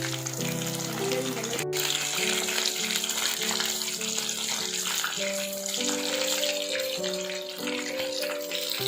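Quail pieces fry in hot oil, giving a steady, dense sizzling hiss that carries on without a break under light background music.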